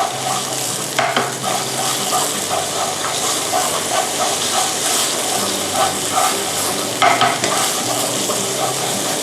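Red curry paste is stir-fried in a pan, with a steady, close sizzle and hiss throughout and a spatula scraping and stirring in irregular strokes.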